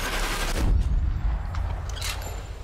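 Muffled booming gunfire bursts in Sniper Elite 3 over a low rumble, a few shots scattered through a busy, noisy game soundscape.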